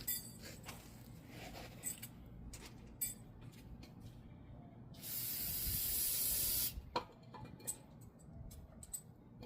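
A single loud hiss of spray, about two seconds long, blasts brake parts clean on a Ford Expedition or F150, with faint clinks and handling noises before and after.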